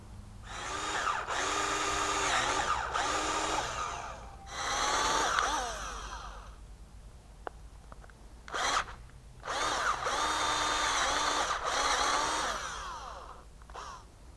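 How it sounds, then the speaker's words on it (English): Unibit drilling a 1-inch hole in a car headlight housing cover on a 2011+ Hyundai Elantra, a loud, close power-drill whine in several long bursts with brief pauses and one short burst between them. "we'll be drilling a 1-inch hole into the headlight housing cover to allow the wires access"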